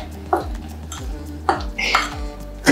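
Utensil scraping and clinking against a makeshift bowl while mixing ingredients, a few sharp knocks and scrapes repeating at an uneven pace, close and fairly loud.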